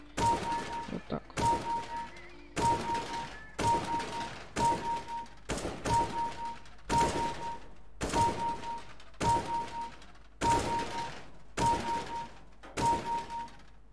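A rapid series of loud, sharp gunshots in regular bursts, with short pauses between volleys, like steady rifle fire on a shooting range, from the video game CS:GO.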